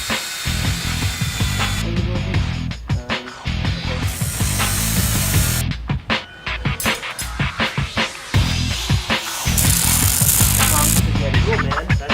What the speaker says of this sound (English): Drill a hole for our cross member.